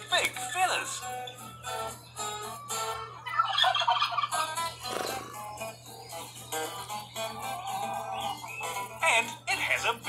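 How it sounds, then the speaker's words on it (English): A turkey gobbles in repeated bursts of rattling calls, loud and close, interleaved with a person talking. "Did you guess what animal it was? That's right, it's a turkey."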